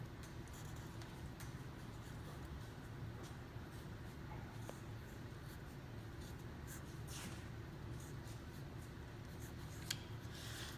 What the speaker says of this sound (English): we're going to write down the problem over here so we have a better look at it